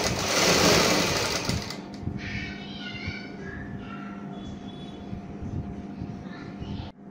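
Sewing machine stitching folded triangular fabric pieces for a blouse back neck design, a steady continuous mechanical whir that is loudest at the start and then runs on more quietly, with faint tonal noise over it.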